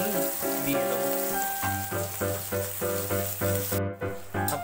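Soybeans frying in a pan with salt, a close sizzling crackle under loud rhythmic background music throughout.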